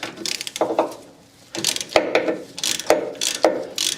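Manual ratchet wrench worked by hand on a Land Rover Defender 110 during a power steering box replacement, giving bursts of close, crisp clicking strokes with short pauses between them.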